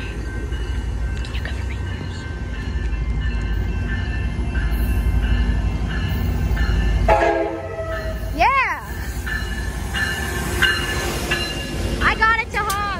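A Metra commuter train rumbles past at close range in Elmhurst, Illinois, then its horn blasts with a wavering, bending pitch, followed by shorter horn notes near the end.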